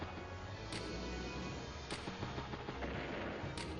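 A battleship fires in the turn-based strategy game Advance Wars: Days of Ruin. A loud, dense cannon-like barrage runs through the whole moment, with sharp blasts recurring roughly every second over a heavy rumble.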